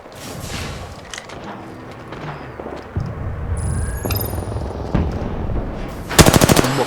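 Rapid automatic gunfire in the video game Lobby Legends, sustained bursts and shots throughout over game noise, with a loud, close burst of fire near the end.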